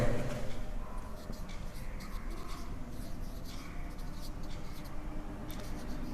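Pen scratching across paper while a date is written into a two-column cash book, short scribbling strokes in an uneven rhythm over a low steady background hiss.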